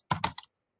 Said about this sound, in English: and I type